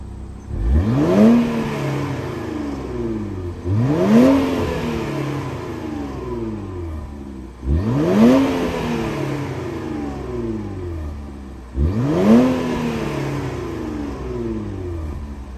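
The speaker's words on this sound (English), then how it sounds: "we have a functional dual exhaust, so let's take a listen to see how this baby sounds." A 2024 Infiniti Q50 Red Sport 400 Black Opal Edition engine revs four times in a row, each burst climbing sharply then settling into a deep, rumbling idle from the dual exhaust, close by.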